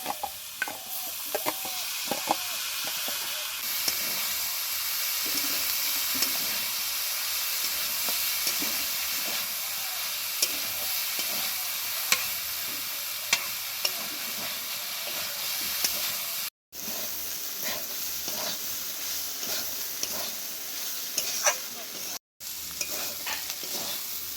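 Boiled figs and potatoes sauté in a pan for a vegetarian curry, a constant close sizzle and hiss with frequent scraping and stirring strokes, broken by two brief silent cuts.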